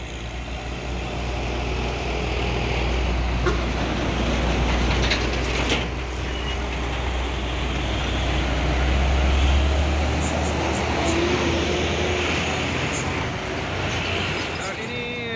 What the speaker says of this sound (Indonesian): ada tiga unit dam truk Kuso melewati tanjakan Bukit Kodok di pagi hari